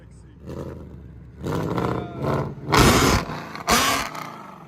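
A Procharged Ford Mustang GT with a 5.0L V8, headers and Corsa Sport exhaust roars through several revs, rising in loud deep surges with raspy peaks, heard close over a low idle rumble.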